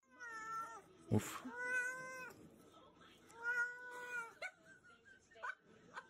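A cat meowing repeatedly in a meme compilation, several drawn-out, wavering meows with a sharp burst near the start, faint and heard without talk.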